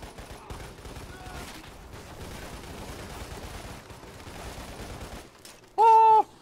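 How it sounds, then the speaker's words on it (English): Rapid machine-gun fire in the video game Lost Planet, a dense continuous burst of gunshots running for several seconds at steady loudness, followed by a short loud tonal game sound at the end. "I'm almost out of ammo for my machine gun."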